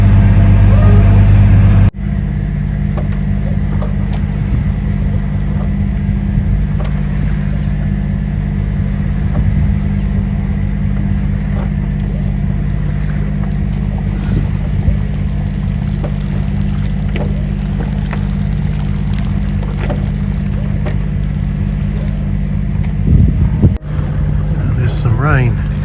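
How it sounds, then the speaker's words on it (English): A steady low diesel boat engine drone runs throughout, with wind and water noise on top, loud and constant like a boat motoring along. "all is peaceful apart from the drone of the diesel"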